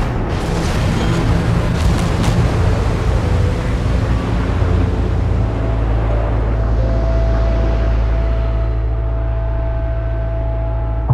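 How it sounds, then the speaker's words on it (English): Largest-caliber guns firing from the deck of a legendary battleship in a video game, heavy booms in quick succession at the start giving way to a loud, sustained low rumble. "firing the guns of the largest caliber in the world from the deck of the legendary battleship"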